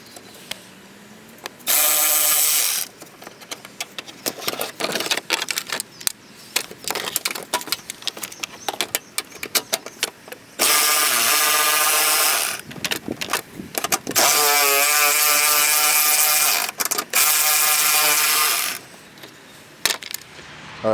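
Clattering and ratcheting tool noise while the bumper comes off an Audi A4 B6: bursts of metallic clicks, rattles and loose clinks, with several longer sustained buzzing stretches from a power tool, close and fairly loud, with no talking.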